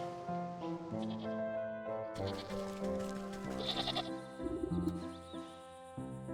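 Sheep in the game Wytchwood bleat several times over a steady layered musical background, with a few brief chirps mixed in.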